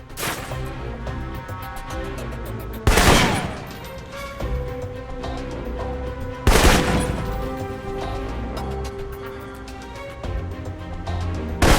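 Assault rifle fire in the spy shooter Alpha Protocol, loud bursts of shots cracking out over steady game music and ambience, with two heavy volleys standing out among quicker single reports.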